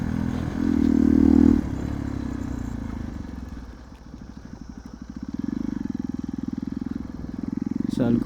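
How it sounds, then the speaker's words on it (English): A Hero XPulse motorcycle ridden over a rough road gives a steady near engine drone with a rhythmic pulsing throb and some rattle, swelling louder at the start and again toward the end. "on the rough road it's very easy to handle this bike"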